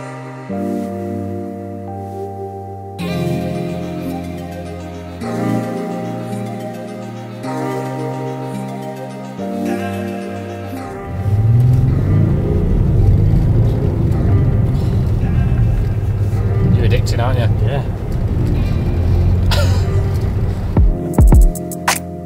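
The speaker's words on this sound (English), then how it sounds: "Actually makes quite a nice noise for a diesel." A Range Rover Sport SDV6 Dynamic with a 3-litre twin-turbo six-cylinder diesel revs up, its tonal hum shifting pitch before swelling into a loud, rough roar that holds for about ten seconds.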